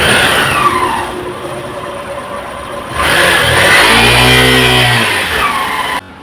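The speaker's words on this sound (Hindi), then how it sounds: "तो देखिए बाइक जो अभी हमारा स्टार्ट है" A Hero Super Splendor BS6 motorcycle engine with a worn clutch plate runs steadily, then revs up loudly for a few seconds before cutting off abruptly.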